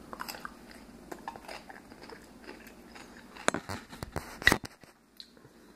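Someone bites into cucumber and chews it, producing soft crunches and wet chewing sounds, faint at first and then a few louder crisp bites near the end.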